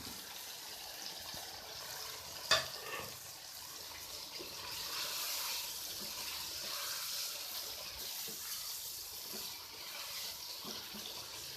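Chicken with bell peppers frying in a pan for a spicy chicken and capsicum curry gives a steady, close sizzle, with one sharp hit early on as more pieces go in.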